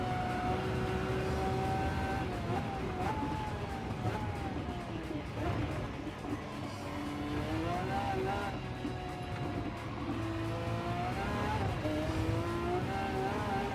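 Race car engine in Gran Turismo 7 roars loudly throughout, its pitch dropping through downshifts and climbing again as it accelerates, with other cars underneath and a voice talking over it.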